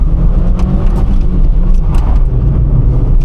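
A cheap car's engine pulls hard under acceleration in gear, a loud, steady mid-pitched drone with rough wind and road noise over it, sustained for a few seconds without a break.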